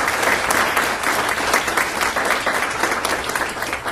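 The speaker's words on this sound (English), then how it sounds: "I'd like to give a round of applause" A room of attendees at a panel event on local pharmaceutical companies claps warmly and steadily, a dense, fairly loud round of applause with no talking over it.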